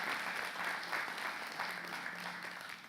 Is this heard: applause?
yes